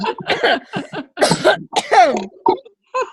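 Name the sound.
coughing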